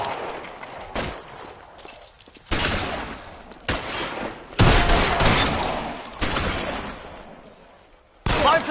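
Gunfire during a shootout in the video game L.A. Noire: repeated loud bursts of shots in clustered volleys separated by short pauses, with echoing tails and no clear talk.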